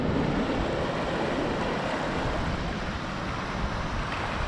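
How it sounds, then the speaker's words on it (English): Salt water rushing into a tray, a steady, loud broadband whoosh and churn that continues unbroken throughout. "In comes the salt water."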